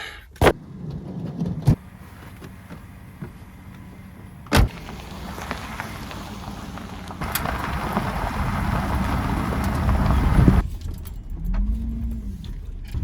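A self-converted camper van rolls down the road, a steady broadband road and engine rumble that swells louder in the middle, broken by a few sharp clicks and knocks, with a brief rising-and-falling tone near the end.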